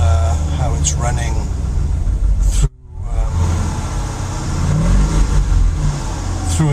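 A Mercedes 450SL engine fitted with Megasquirt fuel injection revs loudly up close, a mid-pitched engine drone rising and falling with a brief cutout midway, while someone talks over it.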